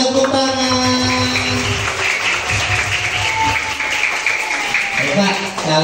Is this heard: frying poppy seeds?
no